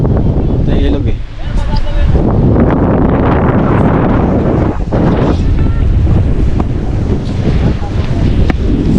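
Sea waves and wind at Pulahan Beach on Lubang Island, Occidental Mindoro, where a river meets the sea: a loud, continuous roar of wind buffeting the microphone over surf that stays steady throughout.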